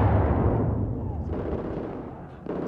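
Gunfire and explosive bursts from the video game Battlefield 4, a dense rumbling barrage of low booms fading slightly over a couple of seconds, loud and close with no talk over it.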